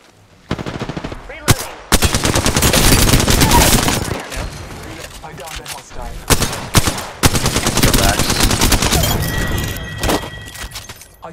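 Video game firefight with repeated loud automatic gunfire bursts, sharp single cracks and thuds, coming in waves with brief gaps, dense and close.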